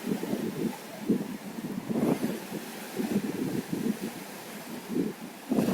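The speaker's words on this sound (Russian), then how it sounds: "Прямо настолько порывы ветра, что телефон как парус, дергается рука с телефоном вместе." Strong gusty wind buffets a handheld phone microphone outdoors near rough water, a steady rumble broken by loud thumping bursts every second or so.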